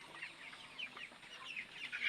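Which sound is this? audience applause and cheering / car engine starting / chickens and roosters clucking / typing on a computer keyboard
chickens and roosters clucking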